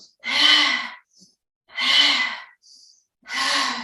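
Three long, audible breaths, deep sighing exhales during a chair Pilates exercise, evenly spaced and close, with faint inhales between.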